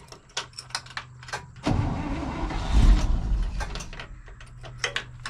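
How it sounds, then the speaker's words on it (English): An International COE truck's engine cranks and catches at close range, a loud rumbling burst that swells and settles into a rough idle, with mechanical clicks and clunks before and after. "I'm going to fire it up."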